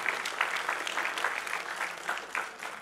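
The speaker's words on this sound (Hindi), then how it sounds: "एक बार जोरदार तालियां हो जाए उनके लिए प्लीज." A crowd at a live fundraising concert for Nepal earthquake victims gives continuous, moderately loud applause throughout, dense clapping with no pauses.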